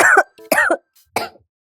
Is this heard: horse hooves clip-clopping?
no